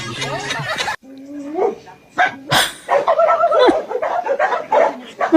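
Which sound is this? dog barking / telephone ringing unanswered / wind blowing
dog barking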